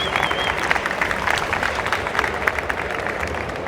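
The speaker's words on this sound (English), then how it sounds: "And a big round of applause, of course." A conference audience at a blockchain convention bursts into sustained applause, a loud, even wash of clapping that holds for several seconds.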